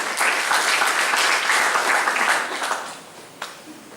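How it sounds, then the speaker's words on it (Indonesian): Church congregation applauding during a sermon, a dense burst of clapping that holds steady for about three seconds and then thins out, ending with a few scattered claps. "Tepuk tangan dong."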